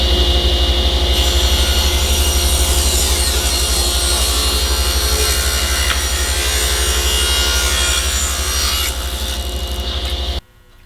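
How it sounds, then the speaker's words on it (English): A saw cuts steadily through a piece of wood for around ten seconds, a loud, continuous rasping whine that holds nearly level before cutting off abruptly. "I need to trim it down a little bit and run it through the saw so you actually see me cut some wood today"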